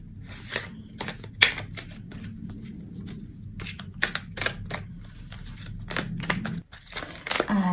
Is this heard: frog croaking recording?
no